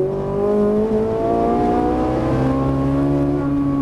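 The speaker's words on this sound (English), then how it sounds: "The car drift out under power, full throttle now." A Ferrari 458 Italia drives at full throttle on the Auto Club Speedway circuit, its engine note loud and close, rising steadily in a sustained high-revving whine with layered harmonics and no break.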